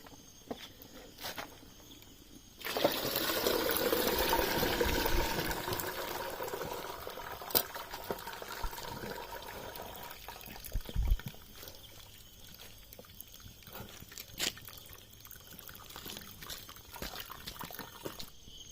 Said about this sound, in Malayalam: കപ്പ നന്നായിട്ട് വെന്തിരിക്കുകയാണ്. ഇനി ഇത് വെള്ളം ഊറ്റണം.